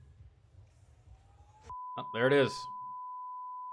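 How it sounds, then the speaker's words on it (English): A steady electronic tone from a kitchen fire alarm rings continuously, with a person talking briefly over it while cooking a steak. "Your fire alarm's going off."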